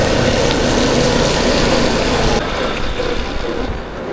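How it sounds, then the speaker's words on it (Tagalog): Strong wind roars loudly and steadily in the aftermath of Super Typhoon Uwan, a dense gusty rush with water-like noise throughout that eases slightly toward the end. "lakas pa rin ng hangin. Mas paulan na pati."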